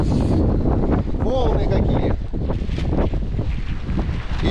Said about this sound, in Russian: И такой ветер, ужас.